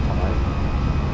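Airbus A320 engines roar steadily under climb thrust in Microsoft Flight Simulator, a loud broadband rush with a faint whine, heard as a brief fragment.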